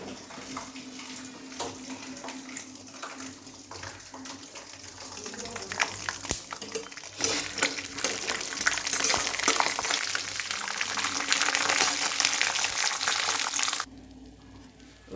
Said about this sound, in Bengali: বাদামটা ভাজা হোক।